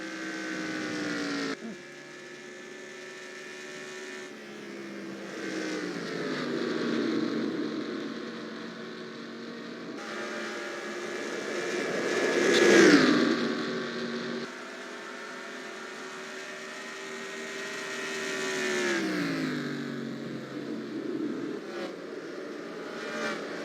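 Stock car engines drone and whine in NASCAR Racing 2003 during a Southern 500 Cup race at Darlington, a steady tonal roar rising and falling in pitch as cars pass and shift, with one louder pass midway.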